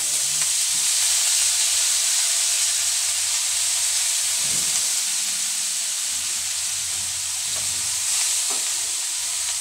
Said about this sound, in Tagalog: Habang niluluto po natin itong sayote